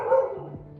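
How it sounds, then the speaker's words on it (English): A dog gives one short, fairly loud bark that trails off quickly, close by with no talking. "I don't know why dogs just start barking in every one of my videos"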